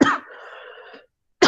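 A woman's cough during a physics class, heard as a short sharp burst at the start, a quieter hoarse tail, then a second cough at the end, close and loud.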